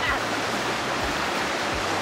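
River water rushes steadily during a river surfing session, a dense, continuous broadband roar with low thumping surges at irregular intervals, loud and close throughout.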